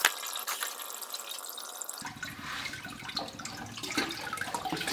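Vinegar poured in a steady liquid stream from a six-gallon supply, splashing and trickling close by, growing fuller and heavier partway through, with no talking.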